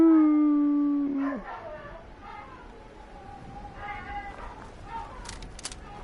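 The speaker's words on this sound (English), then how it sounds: "Doggies." Dogs howl in the video game Fallout 76: a loud, drawn-out wavering howl opens the clip and slides downward, followed by quieter tonal whines and cries over a low game background.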